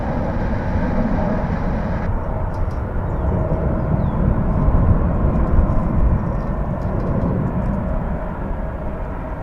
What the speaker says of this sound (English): Another 737, this one on its way to Puerto Vallarta.